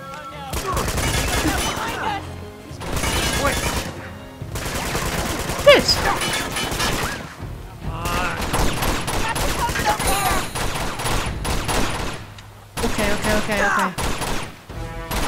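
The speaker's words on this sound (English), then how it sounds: "Someone's shooting at me." Gunfire in the video game Uncharted 2: Among Thieves, in the Tibet level: dense, loud bursts of rapid shots and fusillades come in long stretches with brief gaps, with talk partly mixed in.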